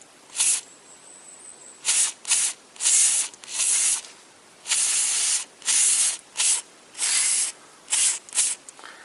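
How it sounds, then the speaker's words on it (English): Bursts of carburetor cleaner sprayed onto the mass air flow sensor of a Toyota Corolla: about ten separate hissing blasts of varying length, close and fairly loud, separated by short quiet gaps. "I give second turn this valve line carburetor cleaner in there"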